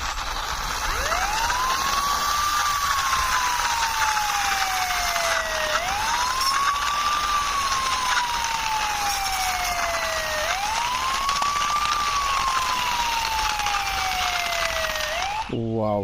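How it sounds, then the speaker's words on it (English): A toy police motorbike sounds its siren in three slow rising-and-falling wails, steady and moderately loud against a faint hiss. "I parked here this police bike with a police."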